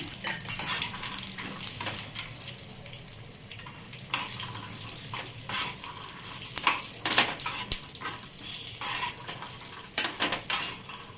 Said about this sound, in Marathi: आता शेंगदाणे पण थोडेसे भाजत आले